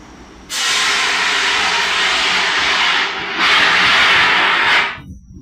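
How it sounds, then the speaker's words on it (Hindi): CO2 fire extinguisher discharging gas under pressure in a loud, roaring hiss, two sustained blasts separated by a brief dip, close and with no talk. "इसमें से गैस निकली और कितने प्रेशर में निकली आपने देखा"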